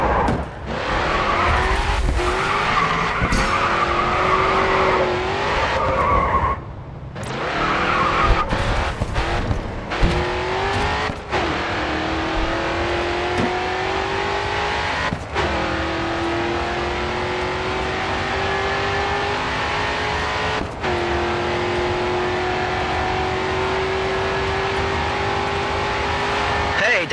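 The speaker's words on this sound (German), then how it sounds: "Okay, jetzt mit Vollgas auf die Zielgerade." Race car in the Grid 2 video game at full throttle down the home straight: a loud, close engine roar that climbs in pitch and drops at each gear shift, with early tire squeal and skidding.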